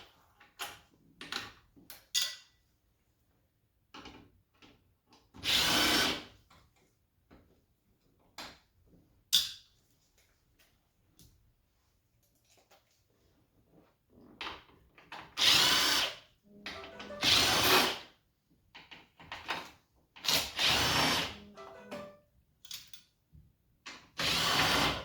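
Power drill driving out 7 mm screws and T15 fasteners from the glove box area of a Corvette C8 dash, with repeated short whirring bursts separated by pauses and small clicks and rattles of parts, close and fairly loud.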